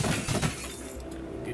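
A shatter skill effect in a video game gives a crunchy, glassy burst in a dense mix of game sound. It is followed by a continuous wash of effects at moderate volume.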